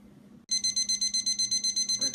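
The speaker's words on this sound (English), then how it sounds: "Just going to turn off the alarm." Cooking thermometer alarm on a roasting turkey sounding when it reaches temperature, a loud rapid series of about a dozen sharp electronic beeps starting suddenly after a quiet moment, close and steady.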